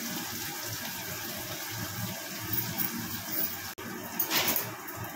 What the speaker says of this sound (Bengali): পেঁয়াজটা একটুখানি ভেজে নিই, তারপর আবার আসছি।